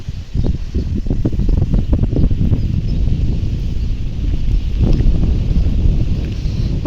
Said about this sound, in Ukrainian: трохи вітер.